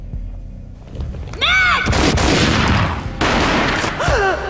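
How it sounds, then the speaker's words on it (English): Gunfire in the video game Max Payne 3, a burst of heavy booming shots and impacts crowding together over a couple of seconds, loud and close, with a rising whistling tone before and a similar swooping tone after. "A gunshot boomed and she fell down in slow motion."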